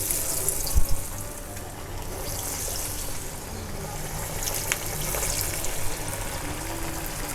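Prawn vadai patties dropped into hot oil fry with a steady, dense crackling hiss that holds at an even level throughout, with a brief louder burst near the start.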